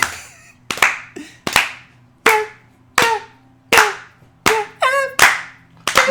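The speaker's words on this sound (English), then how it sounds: "Give us a clap, Joe." Hands clapping close to the microphone, about nine sharp, echoing claps at a roughly steady beat. Each clap decays into a ringing room tail, and a short vocal sound and a few brief tones can be heard between them.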